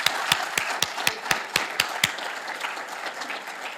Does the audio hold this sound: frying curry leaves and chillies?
no